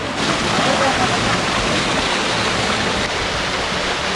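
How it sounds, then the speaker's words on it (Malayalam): Rushing water from a waterfall near Kanthalloor roars as a steady, dense broadband wash that holds constant throughout, close and loud. "നമ്മളപ്പോൾ അടുത്തൊരു വെള്ളച്ചാട്ടത്തിൻ്റെ അടുത്തെത്തി"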